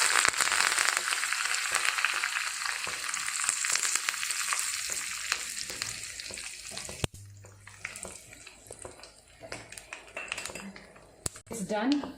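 Chili and torn curry leaves frying in hot oil for South Indian sambar, giving a loud continuous sizzle for about seven seconds that then fades into quieter crackling while a person speaks.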